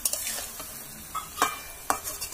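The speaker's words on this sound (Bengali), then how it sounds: "হলুদ আর লবণ দিয়ে একটু নাড়াচাড়া করলাম" Dried fish curry with turmeric and salt is stirred in a pan, giving a close sizzle broken by several sharp scrapes and clinks of a spoon against the metal.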